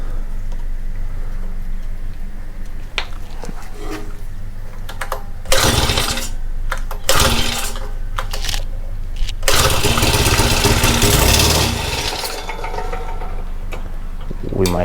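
Honda FG100 small engine, a fresh carburetor installed, pull-started without choke: several sharp recoil pulls and brief sputtering bursts around a noisy mechanical background, catching in a longer rough run near the end, close by.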